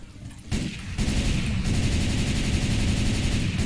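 Automatic gunfire in Left 4 Dead 2 opens after a short quieter lead-in, then continues as a steady, loud rattling stream of rapid shots with a booming low end.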